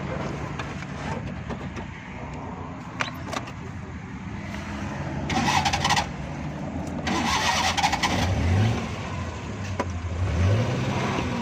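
A Suzuki Bolan van with a gear and clutch problem cranks and starts. The engine settles into a mid-pitched idle, then gets a few short revs that rise and fall. Occasional clicks and faint background voices are also heard.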